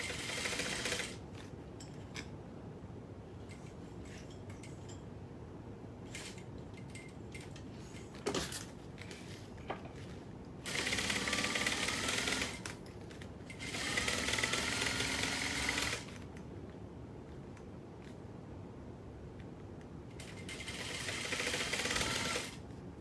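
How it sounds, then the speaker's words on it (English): A sewing machine bastes foam pieces to vinyl in several bursts of steady, rapid stitching, each running a few seconds, separated by quieter pauses with light handling clicks. "So right now I am just basting my foam pieces to my vinyl"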